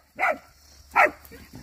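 A dog barks twice, about a second apart, sharp and fairly close, with a quiet pause between and faint sounds after.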